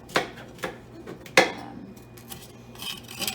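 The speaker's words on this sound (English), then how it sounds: "I am chopping some red pepper" Several sharp knife chops on a cutting board as red pepper is cut into strips, irregular and close, separated by quiet pauses with faint rustling in between.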